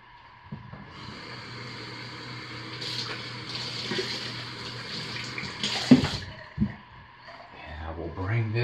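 Lye water poured into cloudy room-temperature oils for cold process soap, with blackberry and spiced pear, a soft steady liquid trickle running for several seconds beneath a speaking voice, with a few clinks near the end.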